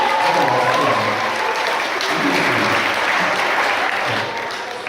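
A crowd at a sheep show applauds a sheep named Bob, steady clapping filling the whole stretch and fading slightly near the end.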